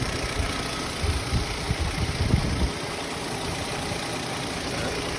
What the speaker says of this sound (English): Both fans have come on.